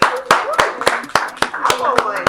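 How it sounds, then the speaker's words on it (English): A small studio audience claps in sharp, distinct bursts over a talk-show set, with voices chattering underneath throughout. "A round of applause"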